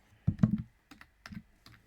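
Close, clear clicks from a computer keyboard in short bursts of a few keystrokes separated by brief pauses, typed while working in a Canva design.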